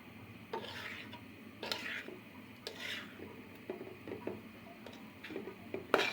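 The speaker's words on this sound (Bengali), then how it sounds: "আমাদের শাকটাকে ভালো মতন একটু ভাজা ভাজা করে নিব" Spinach and potato frying in a pan while being stirred, with repeated scraping and rasping strokes of a spatula over a soft, steady sizzle, close and moderately quiet with no voices.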